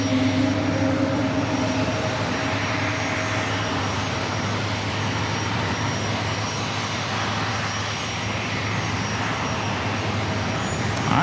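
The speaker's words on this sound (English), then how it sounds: "All right, Moxie now rolling down to 27. Got an Airbus A220-300 with Air Canada" Air Canada Airbus A220-300 jet rolling for takeoff on runway 27 at San Diego airport, a steady, loud, broad engine roar that holds without a break throughout, with no voices over it.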